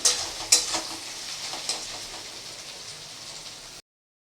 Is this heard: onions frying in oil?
yes